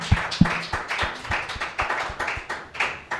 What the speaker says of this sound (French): nous acclamons très fort pour la parole de Dieu